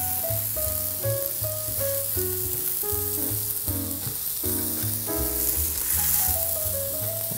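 Eggs and bananas sizzle on a hot breakfast griddle in a steady hiss that runs the whole time beneath prominent background music.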